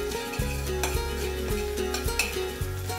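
Ginger and green chilli paste sizzles steadily in hot oil while a utensil scrapes and clinks against the pan; no one speaks.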